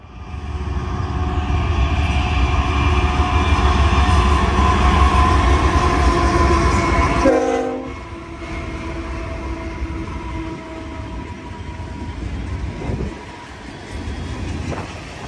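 A BNSF freight train rolls past at mile post 65 in Cajon Pass, a loud steady roar of wheels and engines that suddenly drops after several seconds, followed by quieter continuing rumble and clatter of cars.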